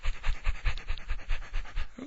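A person imitates a dog panting, producing rapid, rhythmic huffing breaths close to the microphone, about ten quick pants in a steady burst with no words.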